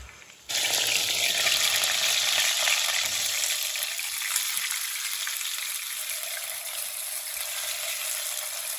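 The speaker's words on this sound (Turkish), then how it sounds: "Tavuklarımızın her iki tarafında mühürlüyoruz." Chicken hits hot oil with a sudden loud sizzle that settles into a steady, close crackling fry as it sears.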